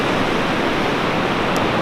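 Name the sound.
ocean waves at a cove on the North Oregon coast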